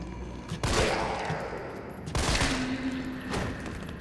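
Gunfire in the video game Resident Evil 3: three sharp, loud shots spaced over about four seconds, each followed by a ringing, reverberant tail.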